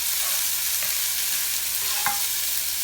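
Thinly sliced onions sizzle steadily in a hot pan, making a dense, loud, continuous frying hiss with a few faint stirring clicks and no talk.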